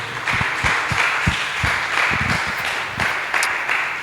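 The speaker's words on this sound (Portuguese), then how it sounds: "Dê um aplauso ao Senhor." Church congregation applauding during a worship service, a sustained round of many hands clapping close by, steady and even for the whole stretch.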